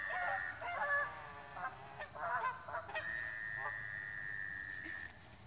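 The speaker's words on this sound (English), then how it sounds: "those are geese" Geese honk repeatedly near water by tall grass, a cluster of loud nasal honks followed by a longer sustained call, with faint background sounds.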